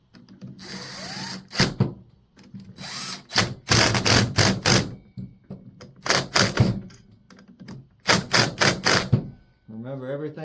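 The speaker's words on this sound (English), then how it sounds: "Remember, everything you're screwing into here is aluminum, so use caution." Power screwdriver driving screws into aluminum parts while reassembling the clutch area of a Stihl FS 100RX string trimmer, several short buzzing whirs in separate bursts, close and fairly loud, with a brief voice near the end.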